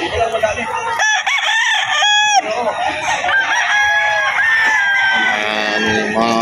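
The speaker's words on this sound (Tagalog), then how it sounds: "Mga manok ni Boss Joey" Several gamecocks crow loudly and repeatedly, overlapping one another, with clucking and farmyard noise all around, at a pet market in Bocaue.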